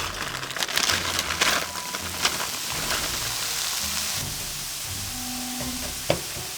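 Frozen cauliflower rice sizzles and hisses in a hot pan, a steady crackling fry with occasional stirring scrapes, close and moderately loud with no talk.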